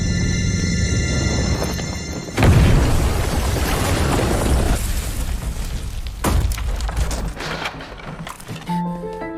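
Bomb explosion in an action film, set off by a trigger button: a sudden heavy boom bursts out over a tense music bed, followed by a second sharp blast and lingering rumble and debris, with no speech.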